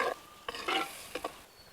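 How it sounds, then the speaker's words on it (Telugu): Pieces fry on a low flame in hot oil while a utensil stirs and scrapes in a few short bursts, close by. "ఇవి ముక్కలు ఎర్రగయ్యేంత వరకు ఒట్టిగయ్యేంత వరకు వేపుకోవాలి నూనెలో చిన్న మంట పెట్టుకొని"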